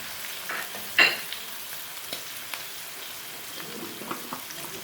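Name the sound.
whole spices frying in a pan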